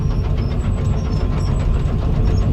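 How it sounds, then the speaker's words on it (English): A farm tractor engine hauling a loaded rock trailer, a steady loud low rumble with a continuous knocking drone throughout and no voices. "the tractor with the trailer in the back"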